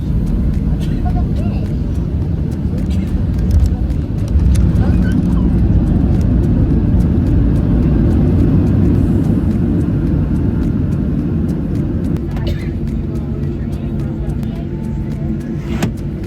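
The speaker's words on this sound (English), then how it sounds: "A few seconds later, the airport appears below us, and we come in for a landing on runway 27." A Southwest airliner lands on runway 27, heard from inside the cabin as a loud, steady, low roar of engine and airframe noise that holds throughout without a break.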